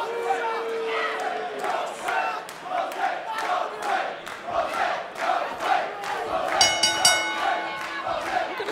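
WWE arena crowd roaring and chanting for Kona Reeves's debut, rhythmic waves of cheering that swell and fall, with an announcer's voice faint underneath.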